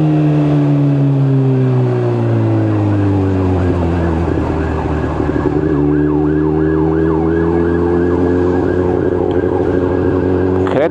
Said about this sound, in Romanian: Vine și ambulanta din spatele meu.